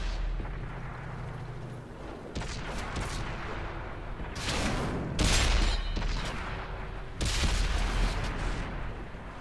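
Tank cannons fire during a World of Tanks battle, with several heavy booming blasts at irregular intervals over a rumbling battlefield background, the loudest shots landing near the middle and toward the end.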